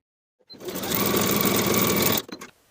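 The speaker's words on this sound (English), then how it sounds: "Sew at 3/8 of an inch and press the seam open." A sewing machine stitches a pajama sleeve seam in one fast, steady run of about two seconds, close and loud, ending with a few quick clicks.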